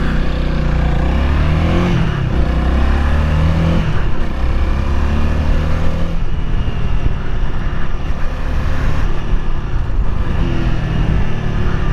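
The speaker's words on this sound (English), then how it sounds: "So yeah, engine brake." Honda Rebel 300 motorcycle engine braking on a ride, a loud continuous low engine drone with shifting harmonic tones as revs fall and rise, wind noise over it throughout.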